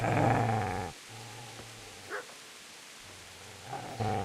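A dog in the medieval game Kingdom Come: Deliverance growls low and steadily, then gives short sharp yips and barks, close and fairly loud, with brief gaps of quiet between.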